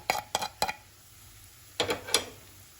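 A spoon scraping and clinking against a pan while mixing coriander powder, turmeric, garam masala and salt for palak matar sabzi: five sharp metallic knocks in two short clusters, close and fairly quiet, with pauses between.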